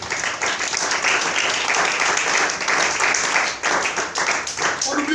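A church congregation breaks into dense, sustained applause filling the room, with voices cheering and calling out among the clapping throughout.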